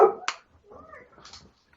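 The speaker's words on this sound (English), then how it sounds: "Sounds like you awoken the dog." A dog in a video game lets out a sharp, brief bark up close, followed by a few softer whining yelps, all within under two seconds.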